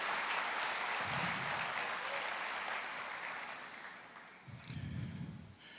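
A church congregation applauds at a preacher's call during a Portuguese-language sermon, a dense, sustained roomful of clapping with slight swells near the end and no speech over it.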